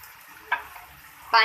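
Water is poured into keema cooking with onion and tomato in a hot pan, giving two short sizzling bursts over a quiet background.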